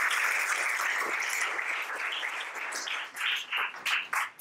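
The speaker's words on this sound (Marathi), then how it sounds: "एकदा जोरदार टाळ्या" An audience at a motivational talk session by Colonel Neelesh Patharkar bursts into loud, sustained applause, a dense roar of many hands clapping that thins into uneven, sputtering bursts near the end.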